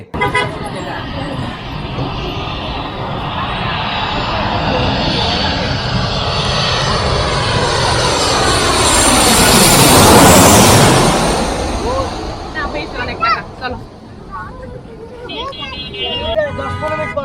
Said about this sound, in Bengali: আরেকটি বিমান চলে আসছে তবে আগের বিমানটির চাইতে এটা অনেকটাই বড় মনে হচ্ছে